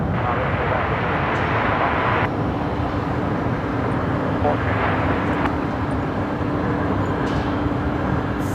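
A Jetstar airliner taxis at Brisbane Airport bound for Sydney, its engines producing a steady, loud broadband roar with a low hum beneath and occasional shifts in tone.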